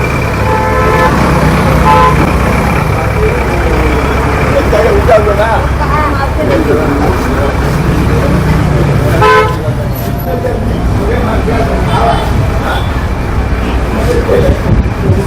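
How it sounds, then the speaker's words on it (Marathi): Vehicle horns toot repeatedly through a dense traffic jam at the Malvan Chauke market, layered over constant engine rumble, crowd noise and people talking nearby. "हे ट्रॅफिक जाम होत सुरुवात झालेली आहे"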